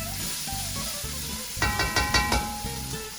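Vegetables for Tuscan white bean soup sizzle in a hot pot and are stirred, a steady frying hiss that swells with a few quick scraping strokes midway.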